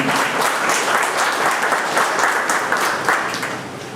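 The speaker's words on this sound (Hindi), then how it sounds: "जोरदार तालियां।" Loud, sustained applause from a large crowd at a Guhraj Nishad Jayanti gathering, dense clapping that holds steady and fades slightly at the end.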